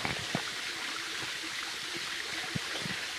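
Water falls and flows steadily at the Mahadev temple on Mahaveer Pahar, Budbuda, in Bargaon, making a continuous rushing, gurgling stream with small splashes close by.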